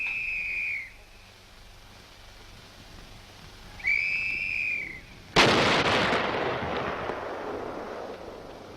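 Missile test firing at the Aberdeen proving ground: two whistling tones rise and fade, then a sudden loud blast opens into a sustained, rumbling roar that slowly trails off.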